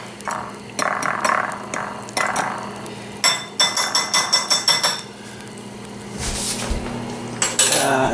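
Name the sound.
fork dropped into the sink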